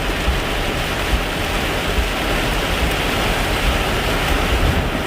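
Heavy rain pours down on a car driving through bad weather in Ohio, a dense, loud, unbroken roar of water drumming on the body and windshield, with no talk.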